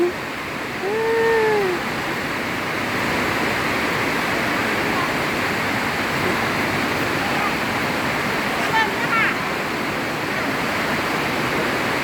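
Heavy rain pours down at a market in Pak Chong, making a dense, steady hiss that fills the whole scene. Faint voices and a few brief tonal sounds come through early on.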